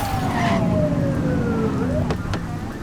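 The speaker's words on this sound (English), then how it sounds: "Remember to turn your siren on." A police car siren wails in The Precinct video game, its tone sweeping steadily downward and then rising again, loud and continuous over a low engine rumble, with no talk.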